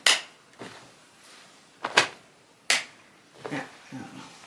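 A few people in a quilting studio clap in scattered, uneven bursts, sharp close hand claps separated by short pauses rather than steady applause.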